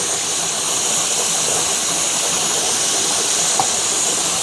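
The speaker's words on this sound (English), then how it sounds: "I don't know if you can see the steam coming up" A pressure canner loaded with raw meat gives off a steady, loud, broadband steam hiss that holds constant throughout.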